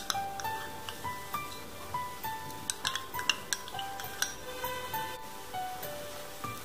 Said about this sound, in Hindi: दही को मिला देंगे अच्छे से और इसे हम भून लेंगे